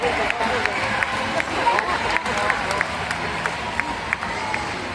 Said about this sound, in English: How about the applause for our incredible volunteers today?